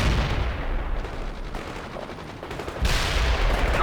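Rapid gunfire and artillery rattle through a battle in the strategy game World in Conflict, with dense machine-gun bursts and heavy thuds rolling continuously, easing slightly midway before a loud surge near the end.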